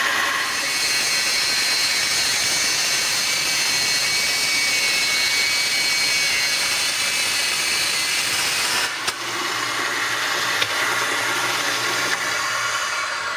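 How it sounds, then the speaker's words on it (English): A Proxxon bandsaw with a vacuum hooked up for dust extraction roars as a loud, continuous whooshing whine that runs unbroken, its tone shifting slightly partway through with a small clunk. "So I'm going to turn on my bandsaw, and I've got it connected to a vacuum."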